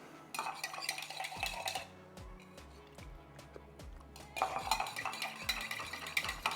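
A tequila and beer cocktail with lime juice is stirred in a glass, soft clinks and scraping swirls of a bar spoon against the glass, fairly quiet and close, with no talking.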